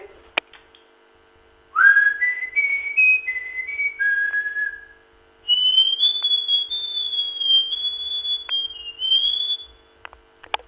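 A person whistles a series of high, clear notes, first a short rising-and-falling run, then a longer sustained melodic phrase after a brief pause.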